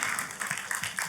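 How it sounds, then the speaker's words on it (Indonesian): A church congregation claps together for Jesus during a sermon, a dense, steady patter of many hands filling the room at moderate level. "Tepuk tangannya bagi Yesus Tuhan."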